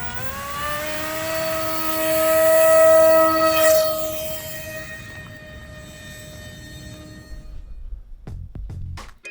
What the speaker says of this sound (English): All right, we are airborne with the Goblin.